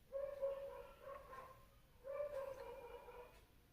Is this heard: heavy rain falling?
no